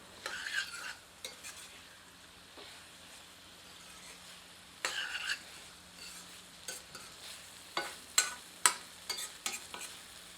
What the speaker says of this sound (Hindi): इसे मसाले के साथ मिलाकर 3 से 4 मिनट मध्यम आंच पर भूनते हैं।